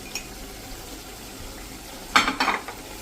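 Kasuri methi and garam masala are stirred into a simmering tomato gravy in a pan. A faint sizzle runs underneath, then a short burst of spoon scraping and wet stirring comes close near the end.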